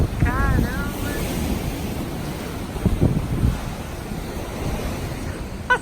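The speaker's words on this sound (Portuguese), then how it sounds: "As ondas batendo em cima da gente se ficar ali." Ocean waves crash and wash up near seaside restaurant tables in the old city of Akko, a steady roaring surf with gusty wind buffeting the microphone, a bird call early on, and no clear talking.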